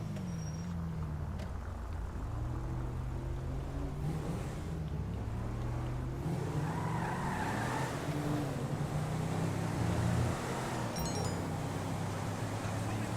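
A car engine in the video game GTA V hums and climbs as the throttle is pressed, with road noise and shifting engine tones running steadily throughout the drive.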